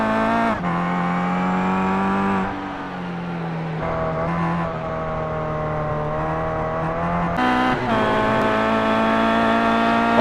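A Kia touring car in the iRacing simulation races at Lime Rock Park, its engine screaming in a sustained high drone through several gear shifts and pitch changes, loud and close from onboard with no voices.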